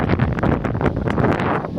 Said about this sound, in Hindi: अपनी हवा चल रही है बहुत ही तगड़ी है